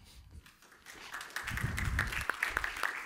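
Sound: audience applause

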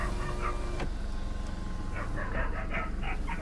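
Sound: dogs barking

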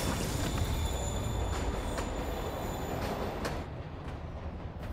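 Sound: train moving in Marvel's Spider-Man Remastered video game

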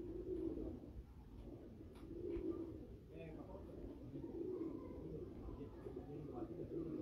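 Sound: pigeon cooing on rooftop

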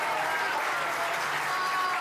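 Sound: audience applause

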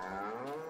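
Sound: cows mooing in Farming Simulator 22 video game

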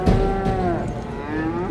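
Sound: cows in a two-deck livestock transport truck

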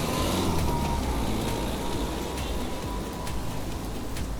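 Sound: rain

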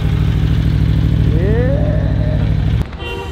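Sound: Yamaha R1 motorcycle engine

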